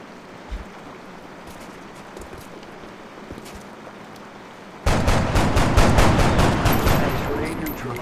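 Gunfire in the XCOM: Long War strategy game: quiet ambience first, then from about five seconds a loud, dense burst of rapid shots rattling on to the end.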